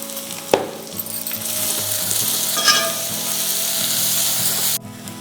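Chopped onions added to a pan with garlic and butter set off a loud, steady sizzle that keeps going, with a clatter of stirring near the start, until it cuts off sharply near the end.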